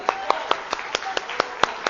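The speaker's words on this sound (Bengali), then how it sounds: "আমরা ওনার জন্য একটা জোরে হাততালি দিই প্লিজ" Nine or so sharp hand claps in a quick, even rhythm, moderately close and fairly faint, from an audience at a national HR convention, with no talk over them.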